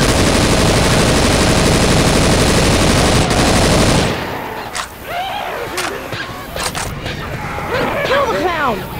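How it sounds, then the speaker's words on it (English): Dense, continuous automatic gunfire from the zombie shooter Left 4 Dead 2 roars loudly for about four seconds, then gives way to scattered shots, sharp impacts and shouted game voices. "Stop shooting me!"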